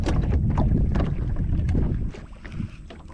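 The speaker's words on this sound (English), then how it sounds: "I'm getting thrashed by the wind right now" Strong wind buffets the microphone on a river fishing boat, a loud, close, low rumbling roar that eases slightly toward the end, with no voices.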